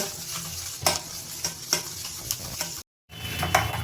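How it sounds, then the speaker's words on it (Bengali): A strainer is worked through a cold coffee mixture, giving a steady wet swishing stir with repeated light clinks against the container, close and continuous apart from a brief gap. "এবার আমরা এই ছাঁকনিটা দিয়ে এরকমভাবে ভালো করে মিশিয়ে নেব"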